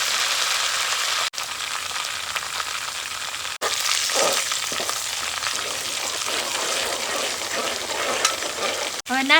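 Onion and green chillies frying in a pan for Gujarati turiya shaak, a steady loud sizzle and crackle with a few scraping stirs partway through and brief dropouts.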